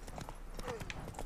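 Horse hooves clip-clop in a steady rhythm in The Witcher 3: Blood and Wine, close and moderately loud, with a few faint voice-like tones over the beats.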